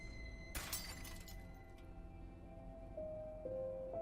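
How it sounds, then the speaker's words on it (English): Glass shatters abruptly in a quiet cabin, a bright crash with tinkling fragments that fade within about a second, followed by low ambient hum and faint tones. "And then I heard glass break."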